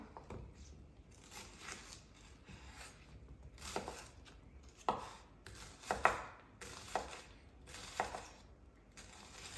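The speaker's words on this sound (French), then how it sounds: "Alors je vais le couper personnellement, je vais le détailler en gros morceaux." A knife chops an onion into large pieces on a board. About a dozen irregular, quiet, close knocks and cuts come with short gaps between them, and no one talks.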